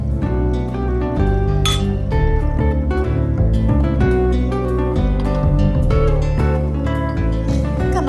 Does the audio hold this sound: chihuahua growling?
no